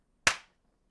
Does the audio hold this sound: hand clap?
yes